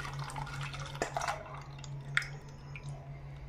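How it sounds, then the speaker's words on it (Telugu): Beaten egg poured into an oiled bowl, giving soft wet drips and squishy splashes over a steady low electrical hum, close and fairly quiet. "ఈ కోడిగుడ్డు సొన ఈ గిన్నెలో అయితే వేసుకోవాలండి"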